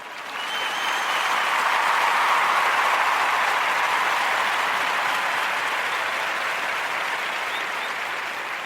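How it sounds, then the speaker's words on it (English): A dense round of applause swells in within the first second and holds at an even, loud level for several seconds, easing slightly toward the end, with no voices over it. "A round of applause because I can."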